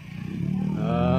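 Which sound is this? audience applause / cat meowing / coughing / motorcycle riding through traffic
motorcycle riding through traffic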